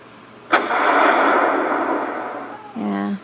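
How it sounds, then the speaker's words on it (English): A cannon sound effect from a music-making app fires a single sharp boom that trails into a long rumbling decay lasting about two seconds, followed by a short burst of voice. "That was the cannons that I used."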